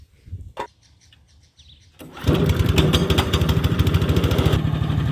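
A professional 20-inch cylinder lawn mower engine starts up after two seconds of near quiet with a few faint chirps, then runs loud and steady close by before its tone drops away near the end.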